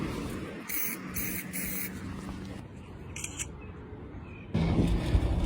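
Short hissing bursts from a spray paint can marking a tree-lifted city sidewalk for repair, several quick sprays separated by outdoor background noise and handling sounds.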